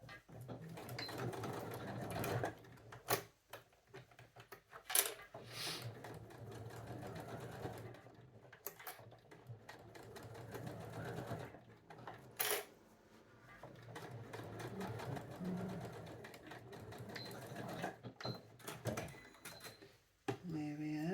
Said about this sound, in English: Then sew a wee row at the top here, straight across.